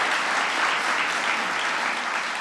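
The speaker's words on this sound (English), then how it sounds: "Give Lamar a big round of applause." A crowd claps steadily in a dense, even wash of applause that holds for a couple of seconds.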